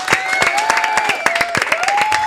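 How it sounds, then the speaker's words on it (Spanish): An audience claps during a live Argentine commerce stream, a steady burst of close, dense applause with a whistle-like tone running through it, loud and without pause. "Un aplauso, che."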